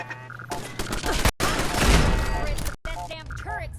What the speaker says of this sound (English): That damn turret still works after 200 years.